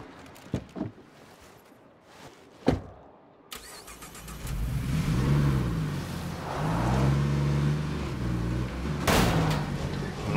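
Car driving in State of Decay 2, a steady mid-range engine drone that rises and shifts over several seconds after a few sharp knocks, with a loud burst near the end.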